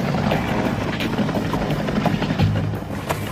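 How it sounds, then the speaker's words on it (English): A surveillance helicopter flies overhead near a restricted desert base, its rotor making a loud, close, steady chopping thrum that continues throughout without any talk. "Surveillance helicopters and jets have buzzed the expedition"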